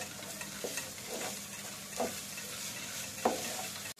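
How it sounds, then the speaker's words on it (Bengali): Chicken pieces fry in spice masala over a gas flame, a steady close sizzle with a few scraping stirs of a spoon against the pan. "এবার গ্যাসের ফ্লেমটা বাড়িয়ে একটু এটা মিশিয়ে নিতে হবে।"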